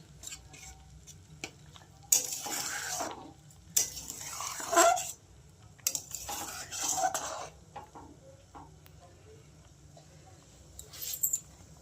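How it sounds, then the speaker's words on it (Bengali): A spoon slowly stirs a pot after cardamom powder goes in, making soft scraping and clinking in a few separate bursts. A faint sizzle sits underneath, and the setting is otherwise quiet with no talking. "একটু এলাচ গুঁড়ো দিয়ে দিলাম আস্তে আস্তে আস্তে নাড়বো"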